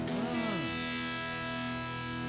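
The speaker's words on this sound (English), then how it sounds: "But if I just really start pushing the distortion" An electric guitar chord rings out through a distortion pedal with the gain pushed high, thick sustained tone with sweeping harmonic overtones that decays slowly across the whole stretch.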